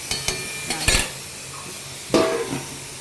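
A metal lid set down on a cooking pot in a home kitchen gives several quick clinks and clatters, then a louder clank as it settles. The sounds are close and short, with no talking.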